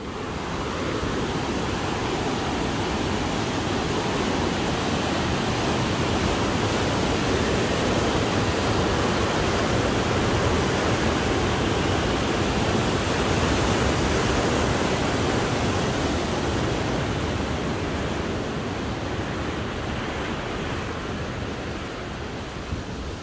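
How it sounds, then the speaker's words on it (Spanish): Water surges through a hydroelectric plant on the Santiago river in Jalisco with a loud, unbroken roar that holds steady throughout, close by and alone with no voices. "Por aquí podemos ver cómo corre el agua."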